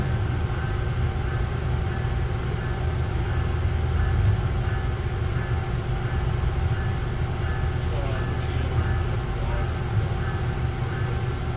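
A heavy VIA Rail train in a train simulator video game rumbles steadily with a deep continuous drone and faint mechanical hum, unchanging and close throughout.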